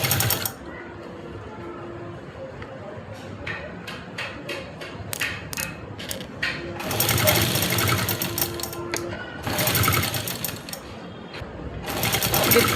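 A sewing machine stitches an Afghani salwar in close, rapid bursts, its motor whirring and needle clattering in runs separated by short pauses.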